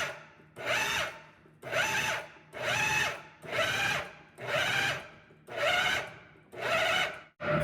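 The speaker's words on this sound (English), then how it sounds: "Use the pulse feature on here and just keep pulsing it until it completely emulsifies" Food processor pulsing a chicken sausage mixture for homemade bratwurst-style sausage: eight steady bursts of whirring blade noise, each about a second long, separated by short pauses, close and fairly loud with no talking.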